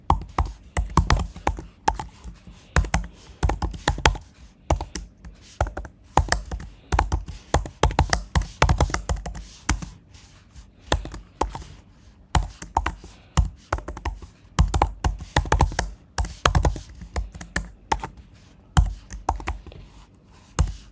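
Code is typed on a computer keyboard in uneven bursts of rapid key clicks with short pauses, close and moderately loud, with no speech over the tapping.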